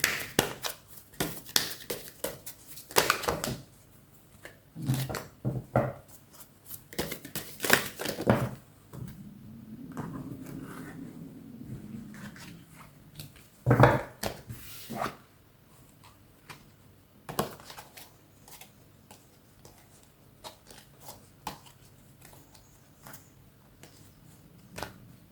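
Tarot cards being shuffled and drawn close by, with bursts of riffling, flicks and soft taps that come irregularly between quiet gaps, plus a brief low hum partway through.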